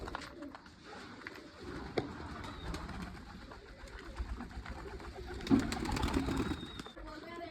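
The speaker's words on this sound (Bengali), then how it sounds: "কবুতরগুলো খাচ্ছে, কত সুন্দর লাগছে" Pigeons coo softly and repeatedly while feeding on a grain mix of chickpeas, wheat and maize, with low murmuring calls, light rustling and pecking nearby, and a brief louder bump partway through.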